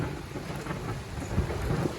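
Thunder rumbles through steady heavy rain on a surface, a dense continuous wash with low rolling booms swelling near the end, loud and without voices.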